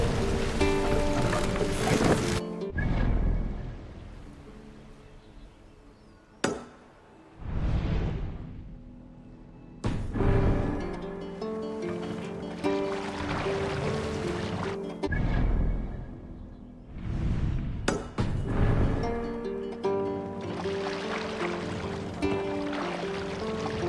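Rowing a boat in Assassin's Creed Valhalla brings swelling washes of water and wind that rise and fall in long surges, with a few sharp splashing strokes and a rhythmic ebb between them.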